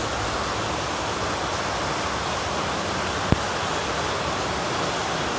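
Water rushes through an overflowing drain during heavy rainfall as a dense, steady roar of noise close by, broken once by a single brief knock.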